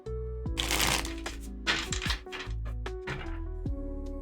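Tarot cards are shuffled up close in several quick riffling bursts, with crisp papery flutters and a few soft taps between them, while faint tonal sounds hum in the background.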